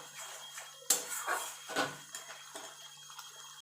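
Masala with cashews is stirred in a pan, a quiet scraping and clattering of utensil against metal with a few distinct knocks and wet sounds, close and fairly faint, no speech.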